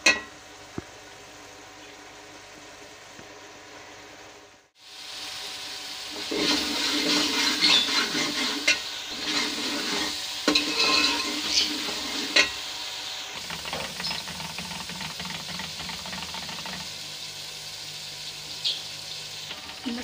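Masala stir-fried in a pot in a village kitchen, a steady hiss and sizzle with scraping and stirring noises, fairly close and without talk.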